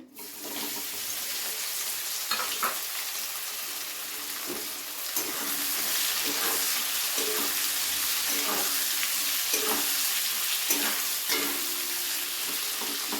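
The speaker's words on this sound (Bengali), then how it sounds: "এরপরে আমি তেলের মধ্যে দিয়ে দিচ্ছি পেঁয়াজ কুচি।" Four thinly sliced medium onions hit hot oil and fry with a loud, steady hiss, while periodic scraping strokes of a spatula sound through the sizzle; no one speaks.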